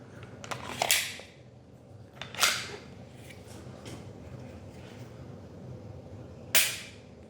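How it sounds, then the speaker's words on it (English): Dry-fire trigger presses on an empty handgun fitted with a Mantis X10 training sensor, heard as three sharp isolated clicks spaced apart over a quiet room background. "I guess we'll just try a trigger press here. Again, gun is empty"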